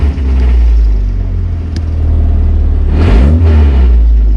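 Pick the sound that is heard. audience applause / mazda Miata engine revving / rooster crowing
mazda Miata engine revving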